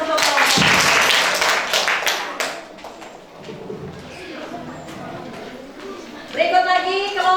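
Students in a classroom break into bursts of clapping that trail off as a teacher's voice talks over them, with another round of claps rising near the end.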